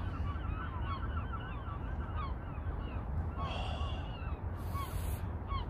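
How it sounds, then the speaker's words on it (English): Gulls call repeatedly over a steady, loud background rumble at a busy retail park in Sunderland, their cries rising and falling throughout. "Seagulls is making plenty noise."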